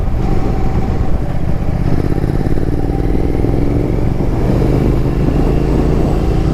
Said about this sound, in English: with this engine you get that smooth exhaust note